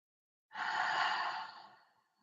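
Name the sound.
slow belly breathing exhales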